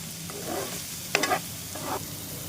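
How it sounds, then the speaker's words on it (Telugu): A spoon stirs salted spinach and moong dal in a pan, giving a few short scraping strokes over a low background sizzle. The sound is close and fairly quiet, with no talking. "సాల్ట్ వేసుకున్నాక ఒకసారి ఇలాగా కలిపేసుకోండి"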